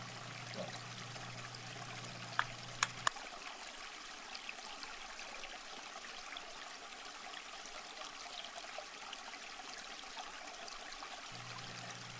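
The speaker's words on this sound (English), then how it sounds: "Love the calming effect of the water feature." Water trickling softly in a courtyard fountain at a palace in Cordoba, Spain, a faint continuous stream heard from a short distance with a few brief clinks early on.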